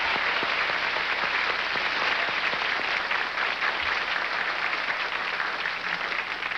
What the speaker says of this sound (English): I think you deserve one terrific round of applause.